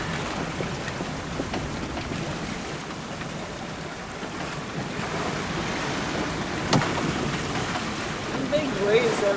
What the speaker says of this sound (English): Big waves every once in a while.